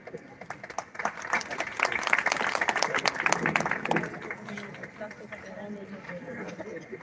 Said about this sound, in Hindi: हाँ, ताली बजनी चाहिए बेटा